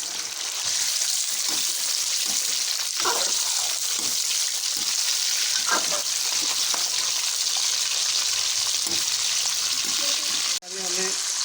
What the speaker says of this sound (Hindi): अभी हमने चिकन को 2 मिनट तक भून लिया है।